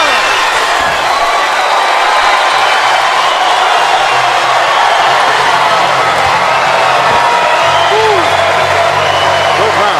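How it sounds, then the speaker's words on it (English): Arena crowd at a women's boxing match between Claressa Shields and Hanna Gabriels roars steadily near the end of a round, a broad loud wash of cheering that holds throughout, with an announcer speaking over it. "And that brings the crowd alive here."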